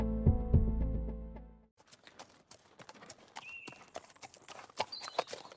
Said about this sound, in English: Get back on the horse and start off toward the village.